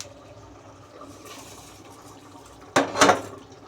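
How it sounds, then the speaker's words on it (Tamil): Rice tipped into water in a pressure cooker while making Bangalore veg donne biryani: a short, close splash and pour near the end, after a quiet stretch of low kitchen background. "இப்போ அரிசியை போட்டுடலாம்"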